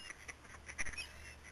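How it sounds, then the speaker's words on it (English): A small brown duck gives a few faint, soft quacks in an outdoor lunch setting, short nasal calls over low background noise. "there was one of those brown little ducks was like just putting his head down and walking up to me"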